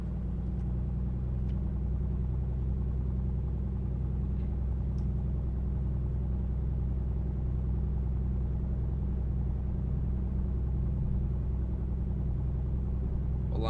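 A Piper Comanche piston engine in a flight simulator holds a steady, loud droning rumble as takeoff power is set, with no talk over it.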